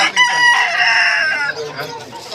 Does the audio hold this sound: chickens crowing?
yes